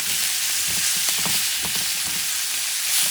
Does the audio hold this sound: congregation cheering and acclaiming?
no